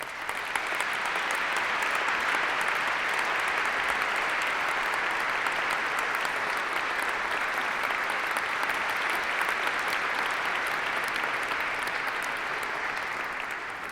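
Sustained, even applause from a large audience at a European heritage awards ceremony in Oslo City Hall, a dense uninterrupted roar of many hands clapping with no speech over it.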